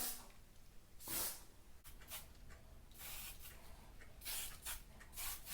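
Several short hissing bursts of hairspray sprayed onto hair, close by and fairly soft, separated by brief quiet gaps.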